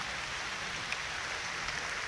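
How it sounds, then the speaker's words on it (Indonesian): Rain falls steadily on an outdoor stairway on the slopes of Mount Merapi, a dense, even hiss of drops with no pauses or voices. "tapi saya kehujanan nih"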